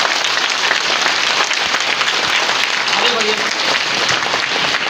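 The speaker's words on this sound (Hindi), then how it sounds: "ऐसे संस्थापक के लिए जोरदार ताली होना चाहिए।" Loud, sustained applause fills a direct-selling organisation event honouring its founders. The dense clapping runs the whole time while a voice speaks over it.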